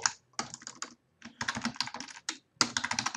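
Rapid typing on a computer keyboard while text is entered into a web form, in bursts of close, crisp key clicks separated by short pauses.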